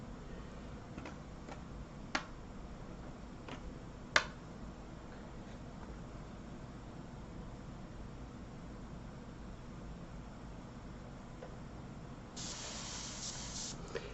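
Airbrush spraying paint in a faint, steady hiss, broken by a few sharp ticks and clicks, with a brighter burst of spray near the end.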